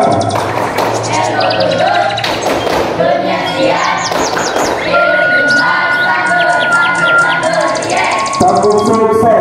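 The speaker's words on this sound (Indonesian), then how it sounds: "Sebelumnya kita tepuk tangan" A school class claps hands together in a few quick bursts of sharp, close slaps, mixed with children's voices chanting along and bird chirps in the background.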